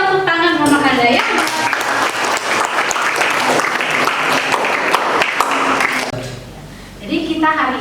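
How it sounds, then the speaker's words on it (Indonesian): Applause from a class of students during an online civics lesson on Pancasila democracy, a dense steady clapping wash lasting several seconds under a voice talking over it, then dropping away as the speech continues alone. "Luar biasa, kita berikan tepuk tangan Mama Kanda ya"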